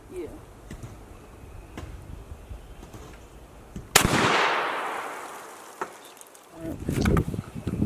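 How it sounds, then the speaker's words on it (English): A single sharp, loud blast from a Benelli M3 shotgun fired at a can outdoors, its boom rolling away into a decaying echo amid insect buzz and faint voices. "wife finna shoot. Shoot at the can."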